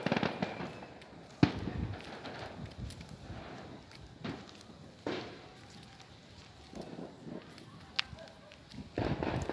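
Fireworks bursting at a distance outdoors, a few sharp scattered pops and cracks spread across the clip with quiet rumbling between, while people talk nearby.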